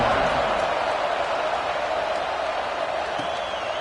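Stadium crowd noise from a video game college football match at USC as a kickoff is set, a steady broad roar of cheering fans throughout, loud and continuous with no clear breaks.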